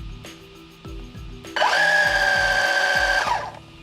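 The electric motor of a Traxxas Slash LCG RC car is run during break-in. Low whirring pulses rise into a steady, loud high-pitched whine that holds for about two seconds, then drops away.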